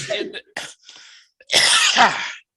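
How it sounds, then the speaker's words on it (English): A couple of short, sharp bursts like a sneeze and a cough, separated by brief pauses, close and fairly loud, with a quieter breathy sound between them. "A sneeze and a cough equals a good moment."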